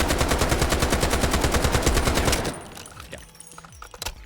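SCAR rifle gunfire in the video game Delta Force: a rapid, loud automatic burst of evenly spaced shots for about two and a half seconds, then stopping, with a few faint clicks and a small thump trailing after.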